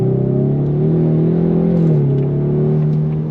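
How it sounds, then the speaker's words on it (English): A 2024 Ford Mustang EcoBoost accelerating hard from a dead stop: a loud, close engine drone that climbs steadily in pitch, dips briefly at a gear change, and continues to rise, heard from inside the car. "let's go on throttle from a dead stop"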